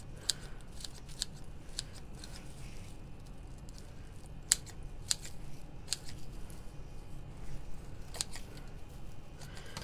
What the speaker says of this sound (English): I'm going to cut my edges here.